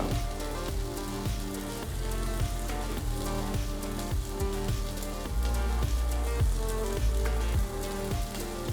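Shrimp seasoned with sazon sizzle and get stirred in a hot pan: continuous, close crackling and spattering, with rhythmic stirring bumps throughout and no voices.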